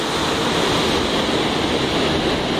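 The Ganges flows at Gangotri in the mountains, a loud, steady roar of rushing water that fills the whole moment with no voices.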